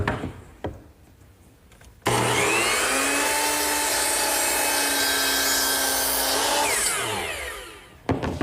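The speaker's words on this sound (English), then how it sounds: "that angled cut is best made at the power miter box" A power miter saw spins up and makes a single angled cut through wood, a loud steady whine lasting several seconds before winding down, with quieter shop sounds on either side.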